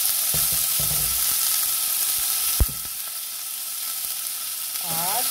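Fresh tomato and onion sizzling in a pan for Bolognese sauce, a steady frying hiss with a few clicks of a utensil, continuous and close.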